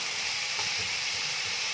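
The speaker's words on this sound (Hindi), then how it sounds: "इस मसाले को थोड़ी देर भूनेंगे अच्छी तरीके से" Masala spice paste fries in a pan for a Bengali cauliflower and fish curry, giving a steady, close sizzle that holds evenly throughout with no talking.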